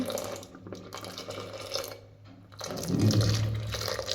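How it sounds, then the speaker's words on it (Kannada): Dissolved boiled jaggery water is poured into a pan of moong dal payasa. It is a close liquid pour that swells into a fuller splash near the end, and no one speaks. "ಈಗ ನೆಕ್ಸ್ಟ್ ಕರ್ಗಿರಿಸಿರುವ ಕುದಿ ಬೆಲ್ಲ ನೀರು ಹಾಕಬೇಕು"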